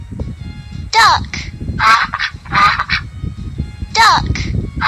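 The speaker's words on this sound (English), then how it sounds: "Duck." A toy duck from a baby jigsaw puzzle gives honking quacks, three or four loud separate calls in quick succession, close and clear over low room noise.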